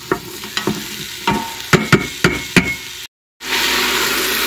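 Onions, garlic and ginger sizzle in olive oil for a spiced chickpea chicken stew while a spoon stirs them with a series of distinct scraping knocks, followed by a brief silence and then a steady, louder sizzle.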